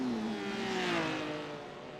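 Porsche GT3 race car in a racing video game, its engine drone holding a steady pitch that slowly slides lower, fairly loud and continuous for about two seconds.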